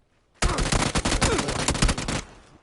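Loud, close automatic gunfire from the battle-royale game PUBG: a sustained rapid burst of shots lasting about two seconds, then cutting off abruptly.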